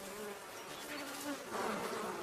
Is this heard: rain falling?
no